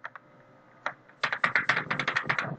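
Fingers tapping a computer keyboard to enter a bank account number: a couple of scattered keystrokes, then a quick, steady run of crisp clicks, close and clear with no talk.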